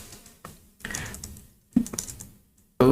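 A few quick keystrokes on a computer keyboard land in short bursts with gaps between them, ending in a sharper, louder tap, close and clear in a quiet room.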